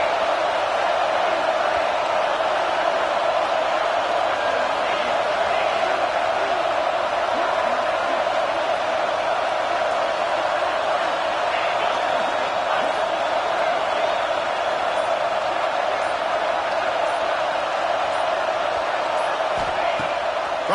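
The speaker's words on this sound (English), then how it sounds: "Decibels rising as the crowd gets behind this defense on third down." A football stadium crowd at an Oregon vs UCLA game, a dense, continuous roar that holds loud and steady for about twenty seconds, with a broadcast commentator talking over it.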